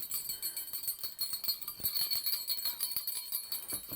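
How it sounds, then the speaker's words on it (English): A small jingle bell tucked inside a reusable fabric Christmas cracker tinkles and rings in a continuous, shimmering jingle that lasts several seconds, with soft rustling underneath. "I love the jingle, I love the bell"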